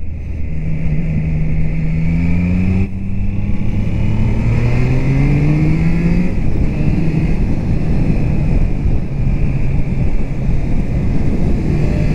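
Triumph Trident 660 motorcycle engine on a ride, loud and close throughout, rising in pitch as it accelerates, dropping at a gear change and climbing again, over steady wind roar.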